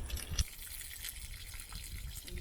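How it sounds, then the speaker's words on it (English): Cold water poured off a container of soaking acorns makes a soft, steady splashing and trickling stream, faint and continuous after a short louder gush at the start, with no talking. "I'm dumping off the cold water here, then I'm going to replenish it with fresh water to keep the leaching process going."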